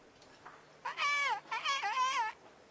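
A person's voice imitates birdsong in the Kingdom Come: Deliverance game, with two warbling, wavering whistle-like phrases, fairly close and clear, separated by a brief pause.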